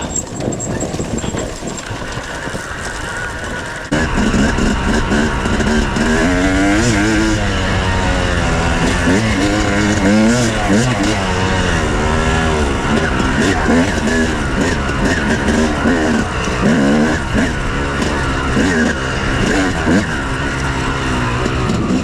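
Yamaha YZ250 dirt bike climbing steep singletrack with the rear tire dragging, its engine revving and warbling loud and close throughout, rising and falling with throttle, with a rider's shouts faintly mixed in.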